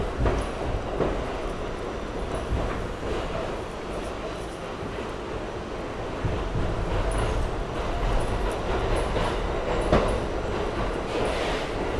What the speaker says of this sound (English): While this train is on its way to Coney Island-Stillwell Avenue.